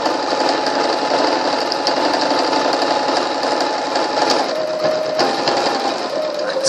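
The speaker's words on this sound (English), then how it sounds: "Take it to your machine and you're just going to do a little running stitch" A sewing machine runs a running stitch along a lace needle case, a steady loud motor whir with a rapid needle rhythm throughout, and the pitch shifts briefly near the end.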